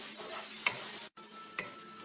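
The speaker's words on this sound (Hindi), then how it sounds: "अब हम जो है लहसुन अदरक की पेस्ट डाल के इनको जो है 2 मिनट्स कर लेते हैं" Onions with ginger garlic paste fry softly in a pan, a faint steady sizzle broken by a couple of light stirring taps and a brief gap, quiet and close with no talking.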